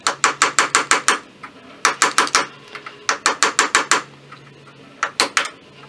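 A rifle sight is tapped sideways into the barrel dovetail on a Kibler Colonial Long Rifle kit. Several close, sharp, evenly spaced metallic hammer strikes come in bursts of about six to eight, separated by short pauses.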